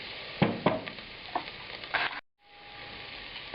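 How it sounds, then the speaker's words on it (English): Paprika and caraway seeds sizzle in a frying pan as they are stirred for cabbage dumplings, with a steady crackle broken by several scraping stir strokes and a brief silent dropout before the sizzle resumes. "We'll stir this around and continue cooking it for another couple of minutes before we add the wine"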